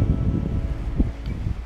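Wind gusting across an open golf course, a steady low buffeting rush against the microphone with brief swells, no talking.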